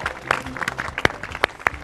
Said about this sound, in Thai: ปรบมือครั้งหนึ่งอ่ะ